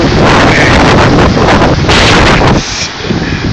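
Hurricane Isaac's strong wind roars at night, a loud, dense, continuous blast buffeting the microphone that briefly eases near the end before surging again.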